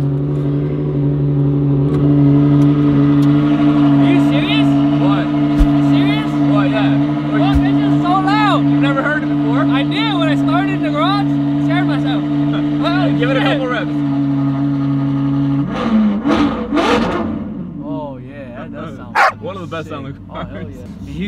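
Supercar engine with the manettino switched to sport, a loud steady sustained drone that then breaks into sharp rising revs near the end, with a dog barking and people talking throughout.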